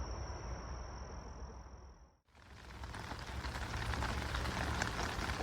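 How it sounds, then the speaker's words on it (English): Steady rain begins falling on a farm, pattering across the whole clip after a high insect-like whine cuts out; the wash of drops is soft and constant. "Well, it's starting to rain."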